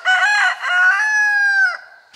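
A single rooster crows loud and close, one long drawn-out call that rises and then holds steady before it breaks off, with no talking over it.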